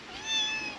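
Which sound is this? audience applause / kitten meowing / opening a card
kitten meowing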